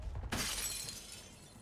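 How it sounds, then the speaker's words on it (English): Glass shatters in a video game, a sudden bright crash followed by a tinkling decay of falling shards, fairly close and alone. "Broke glass."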